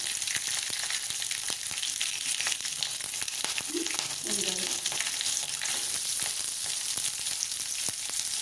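Curry leaves, green chilies and onion fry in a pan with a steady, close sizzle and crackle, a few brief stirring scrapes in the middle, no talking.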